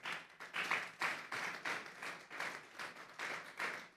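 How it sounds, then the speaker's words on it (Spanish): A church congregation claps in a rhythmic, evenly pulsed beat, roughly two claps per second, moderately loud and unbroken by talk. "Vamos a darle un fuerte aplauso pues al Señor."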